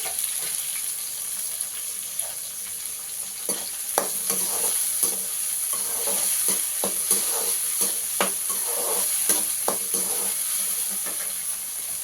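Sliced onions and whole tomatoes sizzle in oil for a Chettinad-style crab curry, with a steady hiss and frequent clicking scrapes of a stirring spoon, close and alone.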